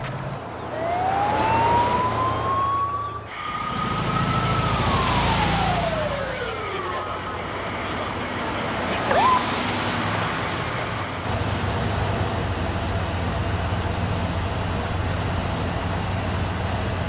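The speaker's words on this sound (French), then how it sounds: "Voilà l'ambulance." A wailing siren rises and falls as it passes amid steady traffic rumble, then fades, leaving the road noise alone.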